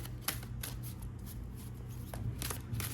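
A tarot card deck is shuffled close by, with soft riffling and repeated flicks of cards in a quiet room.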